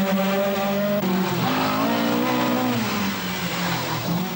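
A Vauxhall Chevette rally car at the 1982 RAC Rally drives hard on the road, its engine droning loudly with a rising and falling tyre squeal throughout, heard close with no talking.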